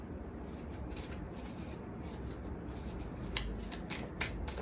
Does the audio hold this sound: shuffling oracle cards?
yes